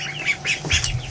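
Ducklings in a barn give several soft, high squeaky peeps and quacks in quick bursts, close by and alone.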